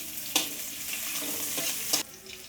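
Garlic, ginger and onion sautéing in oil in a pan, a steady close sizzle with two brief louder bursts of stirring scrapes.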